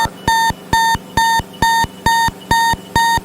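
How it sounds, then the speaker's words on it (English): A very loud warning horn inside a helicopter blares in seven regular pulses, each about a quarter second of steady tone with brief gaps between. "That is seriously the loudest horn."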